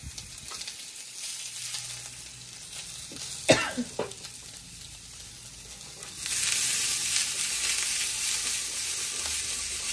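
Potatoes for aloo bhaja frying in oil, a steady sizzle that swells louder partway through, with a cough and a clink of stirring near the middle and no talking.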